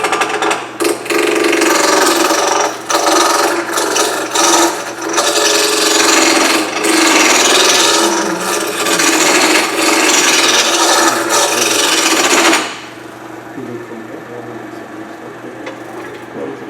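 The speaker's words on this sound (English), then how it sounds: "Just using a shallow spindle roughing gouge." A shallow spindle roughing gouge cuts a spinning wooden pepper mill on a lathe, producing a loud, steady, rough scraping roar with bumps in it. The cutting stops abruptly near the end, leaving only a quiet machine hum.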